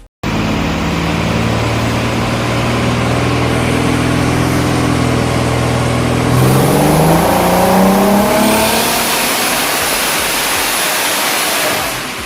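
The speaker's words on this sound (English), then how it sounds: "I couldn't wait to hear the roar come back to life on this thing." Turbocharged 3VZ V6 in a Toyota MR2 roaring at length, loud and close, with engine notes climbing through sustained revs and a hissing rush as it builds.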